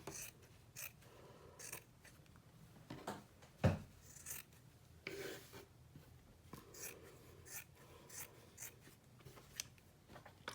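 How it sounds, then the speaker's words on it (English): Scissors trimming cross-stitch fabric around an embroidery hoop, heard as faint, quiet snips and rubbing scrapes at an irregular pace, up close and alone. "And then I'm gonna trim around the edges."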